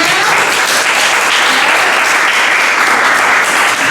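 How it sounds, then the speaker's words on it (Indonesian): A class of young students breaks into loud, continuous applause for one another, an even, dense clatter of many hands that holds steady for the whole stretch. "Tepuk tangan untuk kita semuanya."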